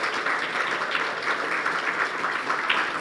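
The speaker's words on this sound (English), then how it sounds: "A round of applause for the entire panel" Conference audience applauding a panel at an African debt and development conference, dense sustained clapping at an even level, no voices.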